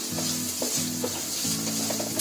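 Two finely chopped tomatoes stirred and fried in a pan for Bombay biryani: a steady close sizzle runs throughout, broken by several scraping spoon strokes, with no voices.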